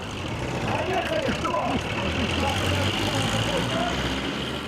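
A tractor engine runs steadily at a loud, constant idle, with a deep, continuous rumble and no speech heard during the stretch.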